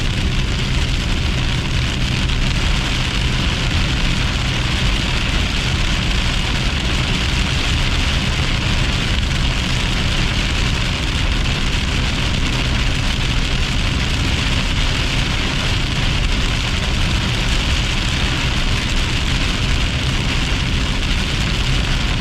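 Heavy storm rain with hail pouring onto a car during a storm chase in Verchères, a loud, dense, unbroken roar of drumming drops on the body and roof throughout.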